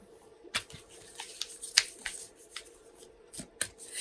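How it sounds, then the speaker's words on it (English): Sacred Traveler Oracle cards being shuffled by hand, giving quiet, irregular papery snaps and riffles at close range, scattered over a soft background with no talking. "now I'm shuffling our Sacred Traveler Oracle cards"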